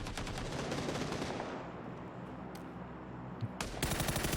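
An unmodified base M4 rifle with a 3x sight fires in PUBG, a loud rapid full-auto stream that runs continuously, with a few sharper cracks near the end.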